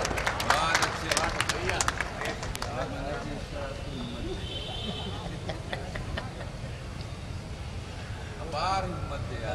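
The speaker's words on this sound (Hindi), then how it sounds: "जोरदार तालियां बजाइए" An audience at a Hindi kavi sammelan poetry gathering claps, a dense burst of applause at first that thins to scattered clapping, with voices talking over it.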